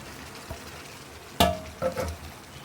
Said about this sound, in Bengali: দিয়ে এবার ডাল আর মাথা সব একসাথে কষিয়ে নেব